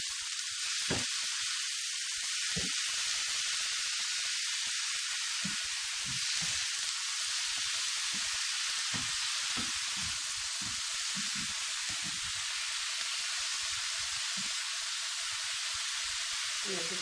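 Something fries steadily in a pan while Indian masala is being cooked, a constant dense sizzle running the whole time with occasional stirring clicks and faint sounds underneath.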